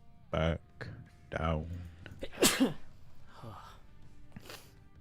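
A single loud, close sneeze bursts out mid-conversation, sharp and brief, with people talking before and after it.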